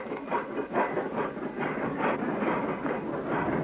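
A train rolls steadily along the rails with a rhythmic clickety-clack over a continuous rumbling roar, close and fairly loud.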